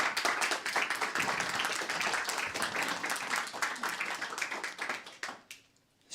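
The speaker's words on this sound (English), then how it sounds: "So a big round of applause," An audience at a pre-budget submission launch applauds two panelists, lively clapping from many hands with some distinct individual claps, ending abruptly into near silence.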